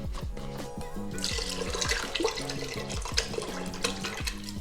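Seafood stock pours from a carton into a pot in a steady liquid stream with gurgling glugs, close and continuous, slightly splashing as it fills.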